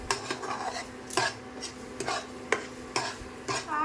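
A spoon stirring a thickened, sticky mango yogurt mixture in a pan on the stove, sharp scraping clinks against the metal repeating every half second or so, close and clear with no talking.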